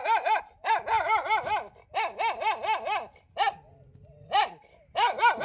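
A village dog on a farm barks in quick, loud bursts of repeated woofs with short gaps, close by and with no talk.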